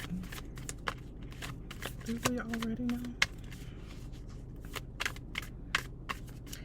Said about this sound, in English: when I shuffle through a deck